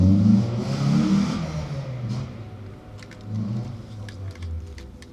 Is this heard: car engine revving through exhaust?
yes